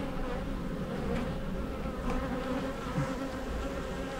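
Honeybees hum continuously and close by around an opened hive during an inspection, a dense steady drone with many drones among the workers; no talking is heard.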